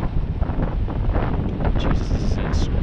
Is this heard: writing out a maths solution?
no